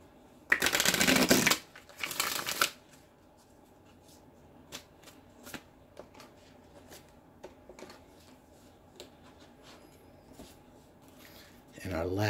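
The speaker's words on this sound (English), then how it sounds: "Let's go ahead and draw the remaining cards." Tarot cards shuffled in two quick riffling bursts, then quiet soft taps and slides as cards are drawn and laid down, faint and close.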